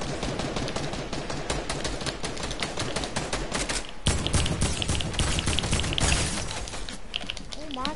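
Rapid video-game gunfire crackles almost nonstop over dense, busy game sound, with a heavier burst midway.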